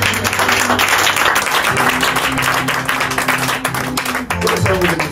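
A church congregation applauds and cheers for Jesus at a French-language service, steady loud clapping and voices filling the room, with a tone or music running beneath throughout.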